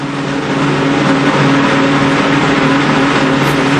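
A NASCAR race car engine at Watkins Glen drones steadily as the car comes down pit road, a loud continuous mid-pitched hum with strong low harmonics and no talk over it.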